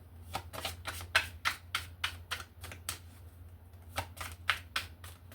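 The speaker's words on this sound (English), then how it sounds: "I want to do a shuffle like this." Rapid, crisp slapping clicks of tarot cards being shuffled by hand, close up, in a fairly even rhythm of about three per second, with no voices.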